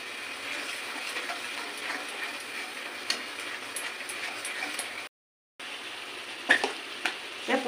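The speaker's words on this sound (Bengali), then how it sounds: "এবার সমস্ত মশলাগুলো আমি একসাথে কষিয়ে নেবো।" Spices being fried together in a pan for a Bengali pointed gourd and prawn dish, a continuous close sizzle with light stirring clicks, briefly cut off for a moment, no talking.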